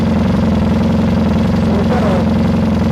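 A restored Triumph motorcycle engine idling steadily through its exhaust pipes, a loud, close, even low throb that holds throughout, with a faint voice briefly audible underneath.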